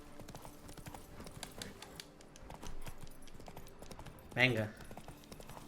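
Horse hooves clip-clop at a steady pace in The Witcher 3, faint and continuous, with a brief louder snort or whinny near the end and a short spoken word over it.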